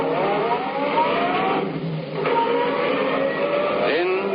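A car engine runs steadily as it pulls away and accelerates, loud and close throughout, with its pitch rising in one continuous pass and no voice heard.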